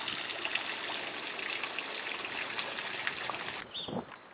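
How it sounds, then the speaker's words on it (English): Light rain sprinkling outdoors near the ocean makes a faint, steady hiss of fine drops, continuous for a few seconds before cutting off to a quieter background with a soft tonal hum. "It's starting to sprinkle rain, so I have to leave in a minute."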